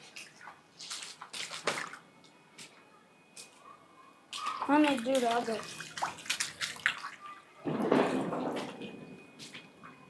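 Rainwater runs and splashes across a soil-covered rooftop in Ongole during a downpour, with soft trickling and bursts of splashing. Voices talk now and then over the water.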